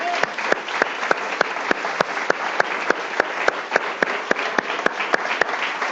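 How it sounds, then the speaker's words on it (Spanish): A church congregation applauds in praise of the Lord, dense steady clapping with sharp individual claps standing out in an even rhythm throughout, fairly close and sustained. "Démosle un aplauso al Señor."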